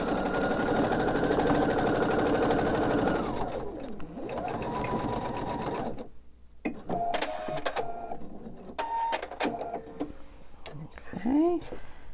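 A sewing machine runs in a steady whirring burst as it stitches closed the opening of a fitted crib sheet, then stops. Someone speaks over the hum and into the quieter clicks and pauses that follow.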